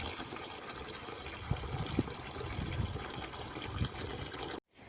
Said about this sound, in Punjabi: ਇਹਨਾਂ ਨੂੰ ਲੈ ਆਪਾਂ ਭਰਿੰਡੀਆਂ ਧੋ ਦਈਏ